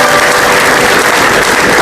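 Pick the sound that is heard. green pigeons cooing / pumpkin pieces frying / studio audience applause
studio audience applause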